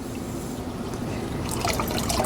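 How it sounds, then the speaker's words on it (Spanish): Water trickles and drips out of a clay pot that soaked for half an hour, a steady close wash that turns into brighter splashy dribbles toward the end. "Y ahora solo tengo que sacarlo, esperar a que salga todo el agua."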